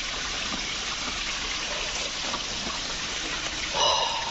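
Water runs among rocks at the Penchalakona pools in a steady, moderate, hissing and gurgling flow that continues unbroken throughout.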